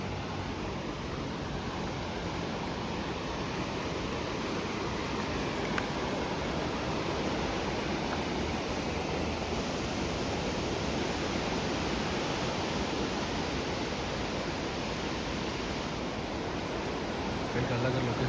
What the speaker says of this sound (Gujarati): જો મિત્રો બાજુમાં નદી જાય છે પાણી.